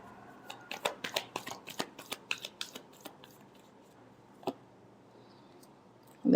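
A deck of tarot cards being shuffled by hand, a quick run of crisp riffling snaps that slows and fades, then one more isolated snap, close and quiet with no talking.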